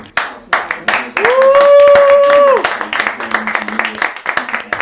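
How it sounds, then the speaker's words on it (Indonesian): Scattered clapping and cheering fill the Palestinian mission office in the UK, with a loud sustained whoop rising over the applause midway before the claps carry on in irregular bursts. "Sorak-sorai dan pelukan memenuhi kantor Kepala Misi Palestina untuk Inggris pada Minggu 21 September"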